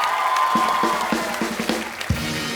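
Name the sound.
audience applause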